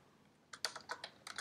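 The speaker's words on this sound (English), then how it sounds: "Something I'm just typing anything which is coming to my mind." Fingers tap out a quick, irregular run of keystrokes on a computer keyboard, quiet and close, starting after a brief hush.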